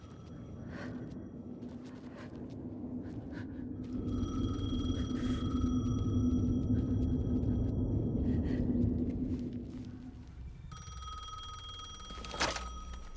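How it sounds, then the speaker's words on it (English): A telephone rings in the video game Alan Wake 2: repeated bright electronic ring tones over a low rumbling drone that swells in the middle, then clearer rings and a sharp knock near the end, with no speech. "The phone again."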